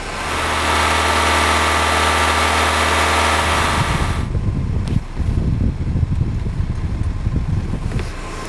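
A car engine at a repair shop runs steadily at raised RPM, a continuous droning hum that holds even, then drops into a rougher, lower rumble partway through, with no talking.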